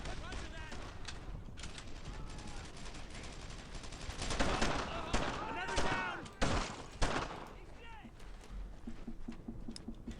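Gunfire in the WWII shooter Brothers in Arms: Earned in Blood, with scattered rifle shots and bursts cracking amid battle noise, a few louder blasts midway, and voices talking over it.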